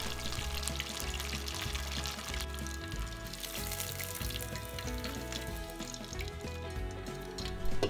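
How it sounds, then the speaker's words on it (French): Pieces of chicken karaage frying in hot oil give off a continuous bubbling sizzle, close and steady throughout. "Et bien sûr frire le reste."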